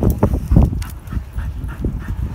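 Staffordshire terrier whimpering outdoors during a walk, giving soft, repeated whines and breathy yelps close by, with bumps and movement noise underneath.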